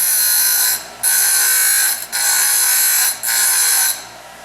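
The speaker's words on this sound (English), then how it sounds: "this is simply a little quarter cable bench grinder" A small quarter-horsepower bench grinder grinds layout marks off metal tubing in four loud, sustained passes of high shrill whine, each broken by short dips as the tube is lifted and repositioned.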